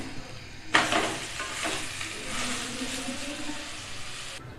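A vegetable paratha sizzles loudly in an oiled pan just after being flipped, a sharp hiss erupting at once and then settling into a steady fry before cutting off.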